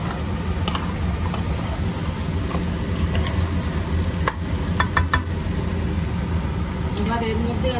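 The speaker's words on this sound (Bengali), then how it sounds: "মশলাটা ভালো করে কষানো হয়ে গেছে।" Spice masala for a country chicken curry sizzles and is stirred in a hot pan, a steady close frying hiss with occasional scraping clinks of the spoon.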